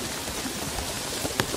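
Steady rain patters densely on surfaces near a catfish fishing spot during the rainy season, a close, even hiss with a few sharper drop impacts and no voices.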